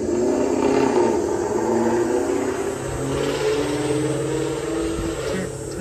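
A Mustang with a 10-speed transmission, headers, aftermarket exhaust and ET Street rear tires revs hard nearby, a loud, continuous throaty roar that stays strong throughout with no talking.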